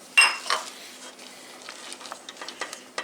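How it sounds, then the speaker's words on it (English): A spoon scrapes and clinks around a pot as chocolate melts over raised heat, with a sharp clatter at the start followed by softer, irregular stirring knocks and light scraping taps, close and alone. "And stir it up"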